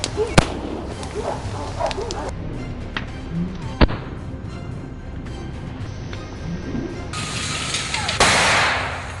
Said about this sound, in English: A series of gunshots rang out, taking down the lead boar